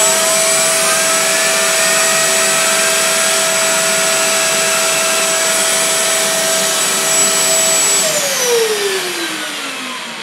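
Bissell Powerwash Premier carpet washer with its brush tool switched on gives a loud, steady motorized whine with a sustained tone. Near the end the pitch drops as it winds down.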